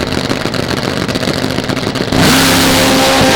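Prostar drag bike launching hard down a drag strip, a loud continuous engine roar that jumps to a fuller, higher scream about two seconds in as it pulls away, with no talk over it.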